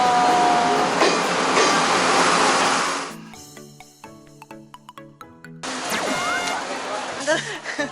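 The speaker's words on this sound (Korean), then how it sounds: "기차 봐요." A train rumbling and rattling past close by in Shifen, Taiwan, loud and roaring, fading into clacking and a voice before a second loud passing surge.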